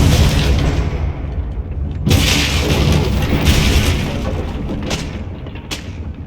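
A Confringo fire spell blast in Hogwarts Legacy on Xbox Series S erupts as a sudden loud booming burst about two seconds in, rolling into a sustained roar, followed by two sharp cracks near the end over continuous game noise.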